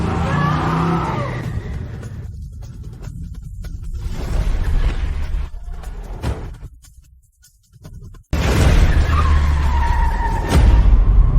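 A car arrives and skids, with rough engine and road noise building, then a sudden loud burst of tire screech and roaring motion that runs to the end.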